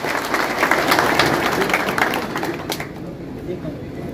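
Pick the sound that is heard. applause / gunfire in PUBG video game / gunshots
applause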